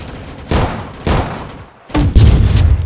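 Booming bursts of gunfire in the video game Rolling Thunder, loud thudding volleys that come in three bouts with brief lulls between them.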